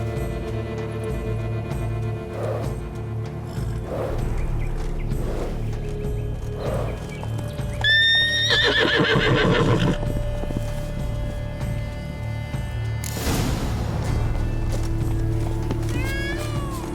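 A unicorn in The Witcher 3 Blood and Wine lets out repeated loud neighs and whinnies with snorts, over a steady low game ambience and music bed, with a burst of hoof and movement noise in the middle.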